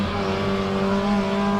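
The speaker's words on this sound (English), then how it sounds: "That's Keith Hoffman going past him as well" Race cars on a wet circuit drone steadily past on the final lap of a 2018 MCS round, a loud, continuous engine roar with no break.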